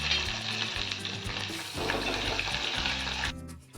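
Tempering of chopped garlic, cumin seeds, curry leaves and chili pieces in hot oil: a loud, close sizzle with bursts of crackling and spattering and a few stirring scrapes, ending with an abrupt drop.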